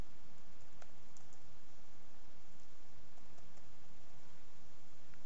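Someone types on a computer keyboard with light, quick, irregular key clicks, faint and close, over a steady background hiss.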